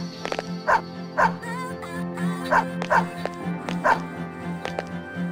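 In a Persona 3 FES video game scene, a dog barks and yips in a series of short, close, repeated barks over a steady low musical hum, with some whimpering between them.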